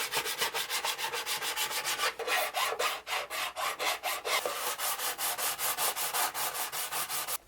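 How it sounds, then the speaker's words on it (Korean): Rhythmic hand sanding, quick raspy back-and-forth strokes of sandpaper smoothing the uneven surface of a 3D-pen sculpted head, close and steady, with a brief pause partway through. "표면의 높낮이를 고르게 하기 위해서 사포로 후가공을 해주었습니다"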